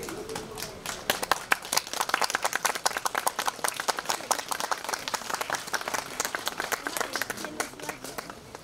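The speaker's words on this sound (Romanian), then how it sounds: "Dacă vă place, îl aplaudați." An audience claps at a traditional Romanian folk costume gala in Slanic Moldova, with a dense run of sharp hand claps that stays lively and fairly close for the whole stretch.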